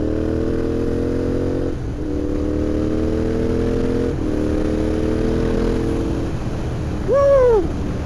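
Royal Enfield Interceptor 650 engine revs up and down in several loud, close throttle blips with rising and falling pitch, followed by a short high whine-like sweep near the end.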